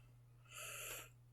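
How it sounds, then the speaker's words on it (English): A person yawns: one long, breathy exhale that swells and then fades over about a second, close and soft, with a steady low hum under it. "sorry for the yawn there"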